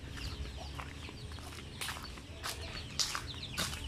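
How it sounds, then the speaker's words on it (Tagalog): Chickens cluck softly in the background with scattered rustling and footsteps, a quiet farmyard ambience with no talking. "Na pa koy mga manok dire."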